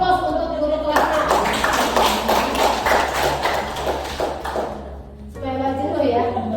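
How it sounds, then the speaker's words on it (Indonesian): Hands clap together for a grade 6 teacher at a primary school gathering, a dense burst of applause lasting several seconds before fading, with voices speaking around it. "Mana aplaus untuk guru kelas 6?"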